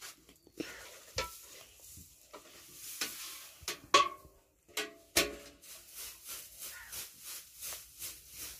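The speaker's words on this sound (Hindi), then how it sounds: "चारे को अच्छी तरह मिक्स कर लेंगे।" Animal fodder mixed by hand for three large animals and a calf, a run of wet, rustling stirring strokes in a steady rhythm, close and fairly quiet, with no talk.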